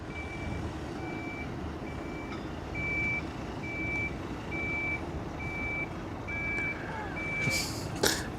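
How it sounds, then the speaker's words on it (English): A Mercedes truck backs up near the Westerschelde waterfront in the Netherlands, its reversing alarm giving a steady series of evenly spaced beeps at moderate distance over outdoor ambience, with people talking nearby. "You can hear the truck."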